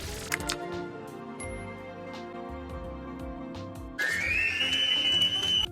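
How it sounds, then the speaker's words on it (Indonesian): SpongeBob whistles loudly in a cartoon: a bright sustained whistle rising then holding steady near the end, over quieter cartoon music and effects. "SpongeBob pun bersiul dengan lantang."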